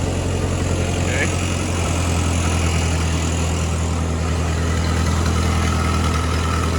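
A Ford 8N tractor engine runs steadily with its PTO engaged, giving a continuous low, even drone with a mechanical hum that holds level for several seconds, close by and without talk.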